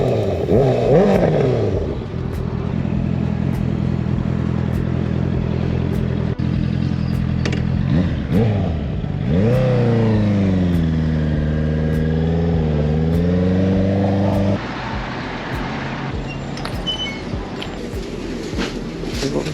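A 2019 Honda CB650R motorcycle ridden while making food deliveries, its engine holding a steady drone, then swinging up and down in pitch through several rev changes before settling to a quieter, lower hum near the end.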